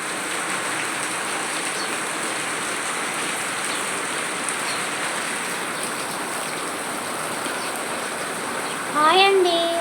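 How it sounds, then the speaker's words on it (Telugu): Heavy rain falls steadily as a dense, loud hiss that stays constant throughout, with a brief voice-like sound rising near the end. "వర్షం అండి"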